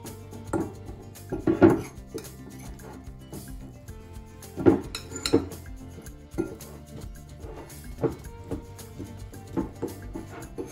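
Grated potato being mixed with salt and flour in a bowl, with irregular knocks and scrapes of a utensil against the dish, some sharper clunks among quieter stirring.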